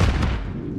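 A grenade goes off in Call of Duty MW2 with a single loud, close boom whose low rumble decays over under a second.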